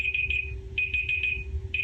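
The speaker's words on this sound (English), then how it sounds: "every hour that alarm goes off and I do my exercises in place" An hourly exercise alarm goes off in a series of shrill, high electronic beeps in quick clusters separated by short pauses, loud and close over a low background hum.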